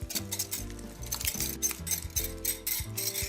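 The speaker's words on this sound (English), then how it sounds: "I'm gonna go ahead and mix that all in." A utensil scrapes and clinks rhythmically against a bowl while combining wet and dry batter for cheesy cornbread hushpuppies, close and steady with repeated stirring strokes and no talk.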